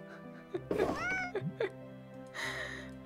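A cat meows in the game Children of Silentown: a drawn-out, rising-and-falling meow, then a couple of short chirps and a softer closing mew over a low, steady music bed.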